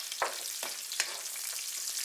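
Cashews sizzle in hot oil alongside green chilies in an Indian vegetarian dish, a soft continuous fry with a few sharp crackling pops, fairly quiet and without speech.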